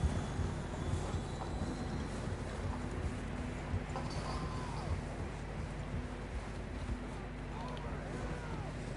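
Horses galloping in Red Dead Redemption 2, a steady, continuous drum of hoofbeats over a dense outdoor wind and ambient wash, with no clear speech.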